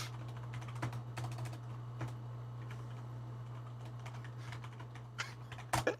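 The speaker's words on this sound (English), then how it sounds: "I hear Pyro furiously typing to me." Rapid, irregular keyboard clacks from a loud tactile computer keyboard come in scattered bursts over a low steady hum, ending in a few louder strikes.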